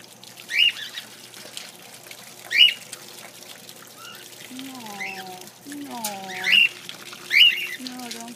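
A pet bird being washed with water gives several sharp squawks, spaced a couple of seconds apart, over a soft trickle of water, while a person talks nearby.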